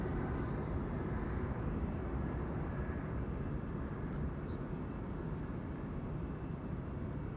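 A departing airliner at Schiphol's Kaagbaan runway 24 gives a loud, steady, broadband roar that holds with little change for the whole stretch, with no voices.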